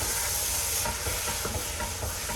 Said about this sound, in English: So now I'm just gonna mix it through